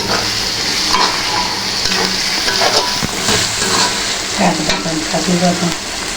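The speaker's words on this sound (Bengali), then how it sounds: "আমাদের পেঁয়াজটা অনেকটা ভাজা কমপ্লিট হয়ে গেছে বাদামি কালার হয়ে আসছে এখন আমরা এটাকে কষিয়ে নিব" Browned onions and spices fry in a pan for a chicken roast, a steady loud sizzle with scraping stir strokes throughout and no talk.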